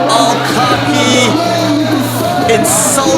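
Crowd at a Malaysia Pro Wrestling show in Kuala Lumpur shouting and jeering, a dense wall of raised voices with yells and whoops rising over a steady hum, loud and continuous throughout.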